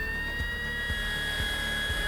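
A Greenworks 24V compact router spins steadily with a continuous high-pitched whine over a low motor drone, close and unbroken with no talking.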